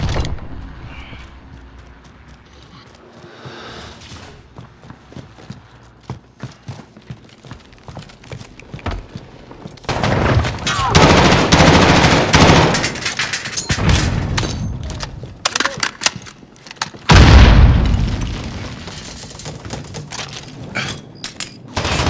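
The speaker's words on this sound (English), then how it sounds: "Cruise missile, go for launch" Loud bursts of explosions and gunfire rumble through a night-time Team Deathmatch on the Hackney Yard map in Call of Duty Modern Warfare, with heavy booms swelling around the middle and again near the end over scattered shots.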